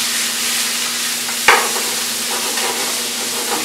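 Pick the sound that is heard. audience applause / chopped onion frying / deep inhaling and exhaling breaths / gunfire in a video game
chopped onion frying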